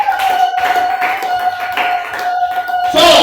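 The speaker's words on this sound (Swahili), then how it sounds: "Pigia Yesu makofi." A church congregation claps together during a sermon on spiritual parents, a burst of loud, rapid hand claps with a sustained tone underneath and a voice starting up at the end.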